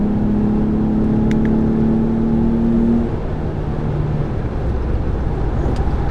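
A Mercedes E350 AMG running nitrous accelerates in paddle shift mode from inside the cabin, a loud sustained engine drone with a rising tone that drops after a gear change about three seconds in, with no talking.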